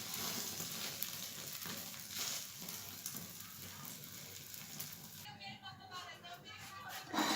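Egg paratha fries in a pan over low heat, giving a steady, soft crackling sizzle throughout that eases toward the end.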